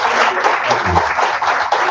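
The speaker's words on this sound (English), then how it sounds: "So everyone give her a round of applause for coming out and giving us questions." An audience gives a round of applause, a short burst of close, loud, fairly dense clapping that stays even from start to finish.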